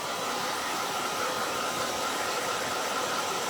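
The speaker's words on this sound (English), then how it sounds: "Let me grab the blow dryer again, and we're gonna blow dry the shading" A hair blow dryer dries painted shading on a wooden Christmas stop sign, giving a loud, steady, unbroken roar of rushing air throughout with no talking.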